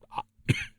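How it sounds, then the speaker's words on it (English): A single cough bursts out up close, preceded by a softer throat-clearing sound a moment earlier, with no speech around it. "You heard the cough."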